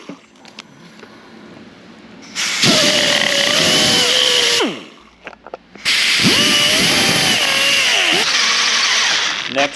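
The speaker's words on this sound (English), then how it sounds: "So he's going to use a grinder to kind of clean that up a little bit." An angle grinder cleans up casting flashing on an engine part for an R32 GTR, whining loudly in two long bursts of a few seconds each with a short pause between, its pitch dipping as the disc bites into the metal.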